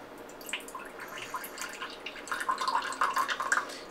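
Black balsamic vinegar pours into a transparent cup, a soft, faint trickle with small splashy drips that grows slightly busier toward the end, heard alone.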